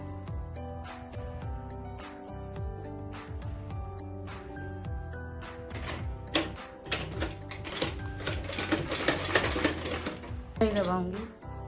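Sewing machine stitching pleats on a salwar, a steady rapid mechanical clatter with intermittent stops and restarts, fairly quiet, under a voice talking in Hindi.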